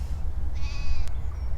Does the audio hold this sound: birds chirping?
no